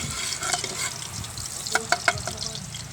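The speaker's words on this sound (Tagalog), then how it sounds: "Medyo mainit ang ating mantika. Pwede tayo mag-gisa ng, uunahin muna natin ang luya mga idol." Ginger hits hot cooking oil in a pan and sizzles steadily, with a few close clinks and scrapes of stirring over the crackle.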